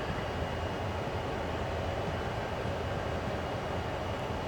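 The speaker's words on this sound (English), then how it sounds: "It's a coal train" A long coal train rumbles past in Train Sim World 2020, a loud, continuous broadband roar of engines and rolling wagons that holds steady with no talk.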